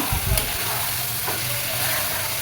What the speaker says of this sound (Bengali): এই যে আমি ভালোভাবে মিশিয়ে নিচ্ছি